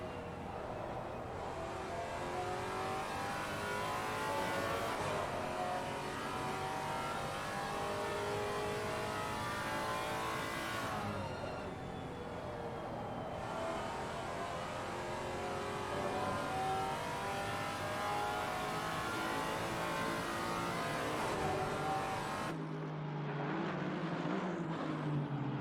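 GT race car engines in Assetto Corsa Competizione at the Zolder circuit, loud continuous revving and shifting through gears, rising and falling pitch with cars passing close, no talking.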